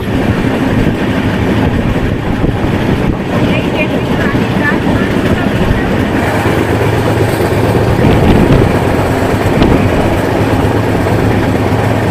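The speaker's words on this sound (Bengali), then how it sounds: "মদনকাটা স্টেশন থেকে আমাদের ট্রেনটি ছেড়ে দিল" A passenger train pulls out of Madankata station on the Kolkata to Deoghar route, a loud, steady rumble with wheel clatter that continues unbroken throughout.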